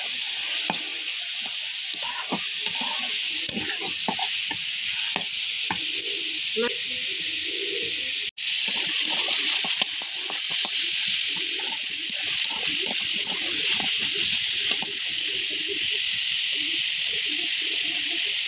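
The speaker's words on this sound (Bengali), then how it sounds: "আর এখন জাস্ট এগুলোকে একটু ভালো করে নাড়াচাড়া করে নিচ্ছি।" Beef bharta ingredients fry loudly in hot oil while being stirred, a dense continuous sizzle with frequent scraping strokes that cuts out for an instant partway through.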